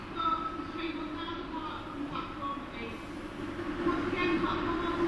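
Pullman passenger train in a Roblox game at Doncaster, a steady rumbling run with faint clicking and tonal whine, continuous and moderately loud beneath speech.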